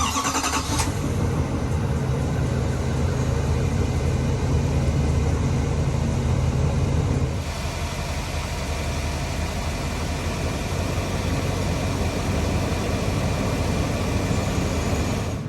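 A 2021 Chevrolet Silverado 2500 HD High Country three-quarter-ton pickup on a road test gives a continuous loud engine and road drone with no talk. The tone shifts noticeably about halfway through.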